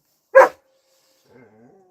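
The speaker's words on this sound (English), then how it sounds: "These dogs are going nutty right now." A single sharp dog bark sounds near and loud, followed after a pause by faint low whimpering or grumbling from the dogs.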